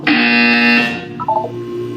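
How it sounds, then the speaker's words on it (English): A loud electronic buzzer blares alone for about a second, a harsh steady tone that cuts off, followed by a brief fainter electronic warble. "You will hear a buzzer."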